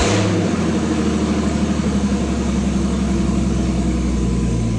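Freshly installed Jeep 4.0 engine running after replacement, a steady low droning idle with a slight rise at the start, close and continuous with no talking.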